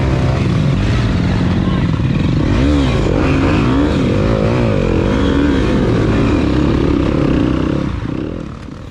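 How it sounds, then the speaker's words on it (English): A Yamaha YZ250FX dirt bike at a harescramble race, its engine loud and close, revving and rising and falling in pitch continuously before easing off at the end. "I stalled the bike, and of course it doesn't want to start back."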